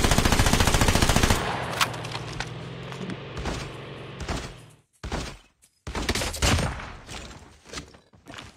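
Submachine gun fire in Call of Duty from an anti-vehicle SMG build: a loud, sustained rapid-fire burst opens, then shorter bursts, single shots and thuds follow with brief silent gaps.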